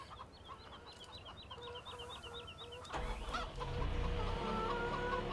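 Video game chickens cluck in a quick series of chirpy notes in Farming Simulator 17, then a louder, busier farmyard murmur takes over with steady background hum.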